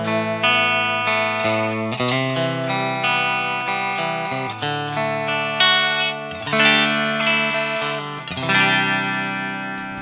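An electric guitar played through a NU-X MG-300 modeling processor with a Greenback 412 cabinet simulation rings out in distorted, sustained chords and notes. It plays alone, loud and steady, for the whole stretch.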